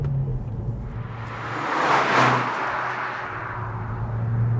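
A 2013 MazdaSpeed3 engine accelerates past 3,000 RPM. The steady, loud rumbling drone rises to a surge and then holds, with no one speaking.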